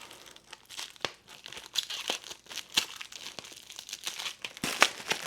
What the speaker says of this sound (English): Looks like it's wrapped in some sort of cling wrap because the ends are not taped, it just like sticks to itself.